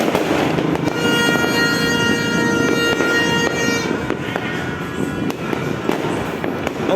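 Fireworks and firecrackers bursting on New Year, a dense, loud continuous crackle with sharp repeated pops throughout, and a whistling rocket tone early on.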